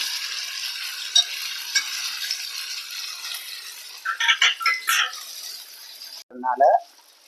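Vanjaram fish shallow frying on a slow flame, a steady light sizzle of oil with a few louder crackling bursts as pieces are turned, and a sharp metallic clink near the end.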